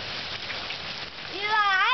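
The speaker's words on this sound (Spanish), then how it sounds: "Un aguacerazo en Phoenix" Heavy rain pours down during a downpour in Phoenix, a dense steady hiss of drops on surfaces, close and loud, with a voice beginning to speak over it near the end.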